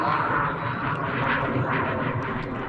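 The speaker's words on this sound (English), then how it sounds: "The army planes that are flying above are so loud." Army planes fly overhead at a desert campsite, a loud continuous engine roar that stays steady and close with no talking during it.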